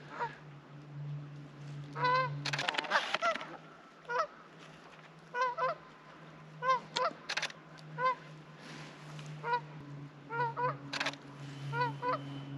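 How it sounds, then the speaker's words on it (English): Geese honk repeatedly in short, insistent bursts over a steady low hum, some calls louder and closer, others fainter, with no voices. "Not sure if you can hear those relatively angry geese"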